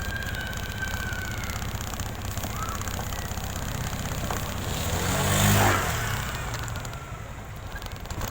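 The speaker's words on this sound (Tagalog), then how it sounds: "Pag umandar yung motor eh." A motorbike engine runs during a ride with a dog aboard, a steady mid-pitched rumble that swells louder toward the middle and then eases off, with no talk.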